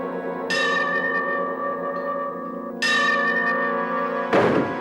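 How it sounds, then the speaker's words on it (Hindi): An indoor bell pulled by a rope rings twice, each stroke sharp and ringing out with a long metallic decay, followed by a duller knock at the end; near and loud, with no talking. "वो इधर सोफे पे बैठकर रस्सी को खींचेगा और अंदर बेल बजेगा"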